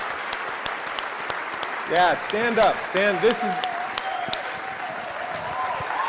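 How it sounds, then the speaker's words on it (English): A convention audience claps continuously in a large hall, the applause staying steady underneath while someone speaks loudly over it and a cheer rises toward the end. "just a round of applause to you"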